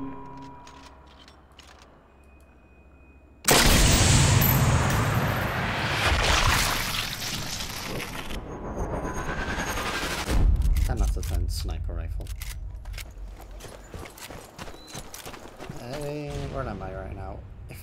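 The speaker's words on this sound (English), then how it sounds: "I'm running into the enemy fire, aren't I?" Enemy gunfire in Sniper Elite 4 erupts suddenly as a loud, dense barrage that fades into scattered shots and rumbling, with a person talking quietly before and during the shooting.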